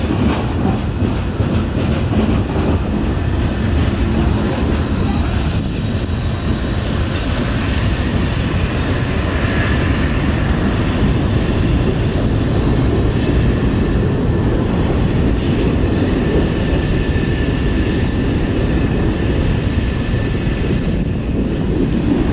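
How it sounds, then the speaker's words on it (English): A train rumbles steadily through a city tunnel, heard from directly above, with a continuous loud roar, rail clatter and occasional faint wheel squeals throughout. "this is the absolute first time I can recall recording the train from above it."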